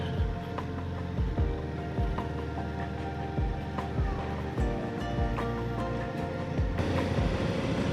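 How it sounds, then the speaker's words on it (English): Steady engine drone with periodic thumping beats and a continuous low rumble from a Royal Enfield Himalayan 450 motorcycle cruising at a constant pace, moderately loud throughout. "Just enjoy the sound of the bike."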